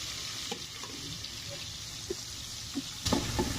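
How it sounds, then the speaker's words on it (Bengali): Shrimp and chopped onions fry in a pan, a continuous sizzle broken by a few louder scraping stirs near the end. "চিংড়ি মাছটা একটু লাল হবে, একটু ভাজা হলে ভালো লাগে দেখতে।"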